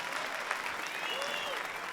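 An audience at a Georgian League comedy contest semifinal applauds in a steady, dense burst of clapping that fills the whole moment without a break.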